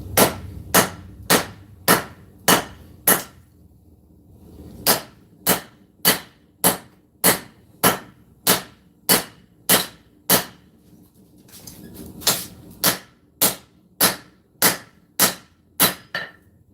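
A hammer rings on a cleaver blade being forged on an anvil in a blacksmith shop, giving sharp, loud, evenly spaced metallic strikes in bursts of about six to ten blows separated by short pauses, with no talk.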